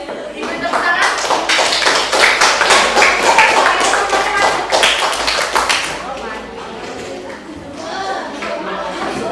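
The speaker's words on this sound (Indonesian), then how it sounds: "Oke, boleh dikasih aplaus dulu anak-anak. Diberi tepuk tangan" Schoolchildren in an Indonesian classroom clapping their hands, a brisk burst of many small claps that fades after about six seconds into murmuring chatter and scattered taps and thumps.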